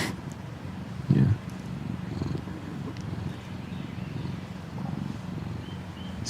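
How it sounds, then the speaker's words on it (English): A cat purrs close by in a soft, steady, low rumble with gentle rhythmic pulsing and one brief louder burst near the start. "We got cats around here."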